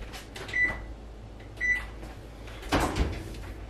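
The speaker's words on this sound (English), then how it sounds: "Preheat your oven to 350." An oven's control panel is set to preheat to 350 degrees, giving two short, clear electronic beeps about a second apart, followed by a duller knock like a cupboard or door closing nearby.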